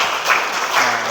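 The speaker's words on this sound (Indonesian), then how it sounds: "Oke, kasih tepuk tangan buat Julia." Applause for a student in a classroom physics lab session, a short burst of dense, steady clapping from a group, close and fairly loud.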